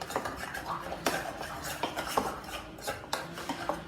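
Clear glue slime being mixed with shaving cream: soft, wet scraping and clicking strokes of a utensil against a bowl, repeated in an uneven rhythm, close and quiet.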